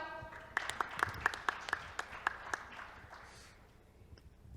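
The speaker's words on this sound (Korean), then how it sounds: "박수 주십시오" At a Korean business innovation talk concert, a handful of distinct, scattered hand claps ring out in a loose sequence of about ten, then trail off into quiet room tone.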